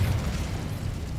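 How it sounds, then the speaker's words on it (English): The Incendio fire spell being cast in the Hogwarts Legacy video game, a short dense whoosh of flame with a heavy low rumble, loud and continuous for about a second. "Incendio!"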